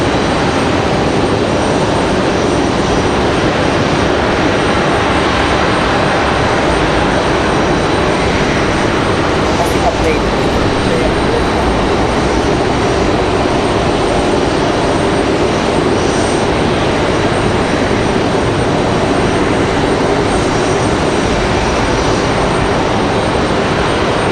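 A loud, sustained engine roar from an Aeromexico airliner at Raleigh-Durham International Airport fills the air at an even level from start to finish, with no speech.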